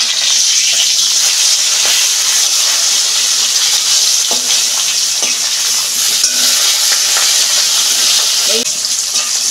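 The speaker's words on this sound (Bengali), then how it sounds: "মাছটা আমি উল্টে দিচ্ছি।" Fish sizzling in hot oil in a wok just after being turned, a steady loud crackle with scattered spatter pops and faint clinks of a utensil.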